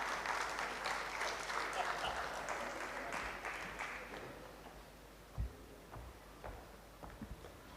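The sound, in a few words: audience applause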